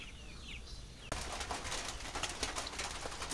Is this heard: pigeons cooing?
yes